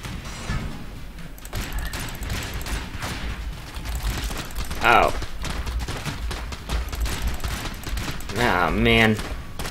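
Gunfire in the bullet-hell dungeon game Enter the Gungeon, rapid volleys of small shots crackling in bursts alongside mechanical clatter, with someone talking over much of it.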